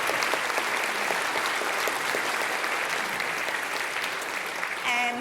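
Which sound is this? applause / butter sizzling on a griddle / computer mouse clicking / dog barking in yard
applause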